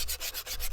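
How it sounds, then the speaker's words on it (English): Sandpaper rubbing along a cut metal edge in quick, even back-and-forth strokes, close and fairly quiet, with a regular rasping rhythm. "I cleaned up the edge with sandpaper"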